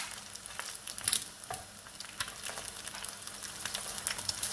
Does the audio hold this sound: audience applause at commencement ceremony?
no